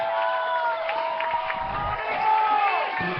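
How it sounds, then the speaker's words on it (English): High school football crowd at an FBC versus Lutheran South game roaring on a big third down, loud overlapping shouts and whoops swelling and surging, with an announcer's voice over the noise. "3rd down, the crowd gets loud"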